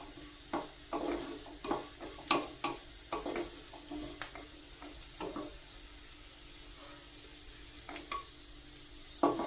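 Nalleru (Cissus quadrangularis) and curry leaves frying in a pan, a soft sizzle under repeated scraping and stirring knocks of a spoon against the vessel at an uneven pace, quiet and close.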